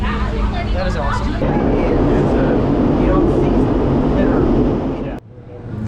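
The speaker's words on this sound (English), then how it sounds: "This is how the tram cars work," A Gateway Arch tram car travels inside the arch with a loud, steady mechanical rumble and rattle that cuts off abruptly near the end, with people talking over it.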